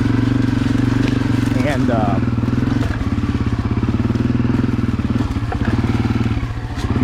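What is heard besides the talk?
Honda CRF250F dirt bike engine riding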